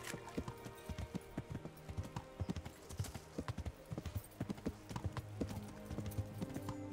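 Horse hooves clip-clopping while riding through a town in the video game Kingdom Come: Deliverance, a steady rapid rhythm of hoof strikes over a faint background bed, continuing throughout.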